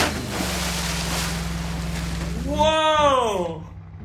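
In the BeamNG.drive game, a car plunges into deep water with a steady rushing splash over a low engine hum, then a loud voice exclaims with rising, wavering tones near the end.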